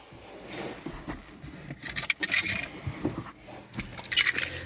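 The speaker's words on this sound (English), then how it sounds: "let me grab the keys" Car keys for a Mazda3 with keyless entry jangle and clink in several short metallic bursts, close by, with rustling handling in between.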